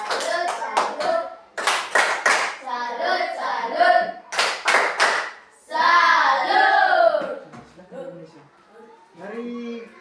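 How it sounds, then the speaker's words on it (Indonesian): Schoolchildren in a classroom civics lesson clap their hands in several quick rhythmic bursts, loud and close, with a teacher's voice and children's voices between the rounds. "tepuk tangan semua."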